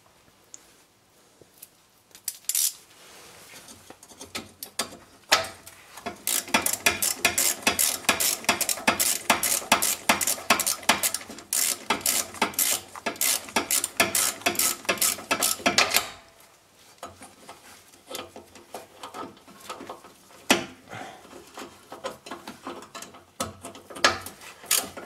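A ratchet tightens the bolts on a Renault Twingo's rear brake, producing rapid, sharp metallic clicks in a dense run that slows toward the end, close and clear, with no talking.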